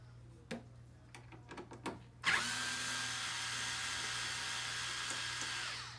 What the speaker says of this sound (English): we remove the screws holding the speaker in place